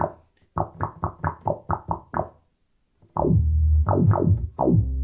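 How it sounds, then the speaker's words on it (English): A deep synth plays short plucked notes in a quick run, pauses, then returns with a heavier, sustained low sub bass under more notes. "It's got a really low sub sound."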